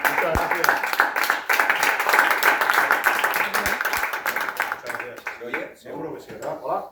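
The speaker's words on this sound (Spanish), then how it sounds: "us demanaria que rebem amb una bona aplaudida al Sergio, que és el convidat d'avui." An audience at a book presentation gives the guest a round of applause, loud close clapping that keeps up for several seconds and then thins out into scattered claps and talk.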